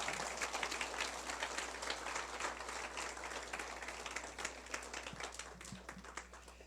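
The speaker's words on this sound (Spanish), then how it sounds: "Dale un aplauso a Dios." A church congregation claps and applauds together in a sustained, dense wash of clapping that holds steady throughout, heard at moderate distance with no speech over it.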